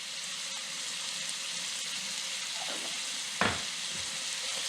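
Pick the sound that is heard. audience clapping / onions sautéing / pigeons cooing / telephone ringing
onions sautéing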